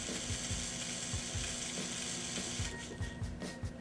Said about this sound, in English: A motor can turn in either direction at a user-specified speed for a set amount of time, such as 3 seconds